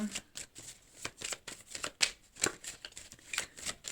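Tarot cards are riffled and shuffled in quick, close bursts of papery flutter, then a card is drawn with a soft slide, all fairly quiet with no talk over it.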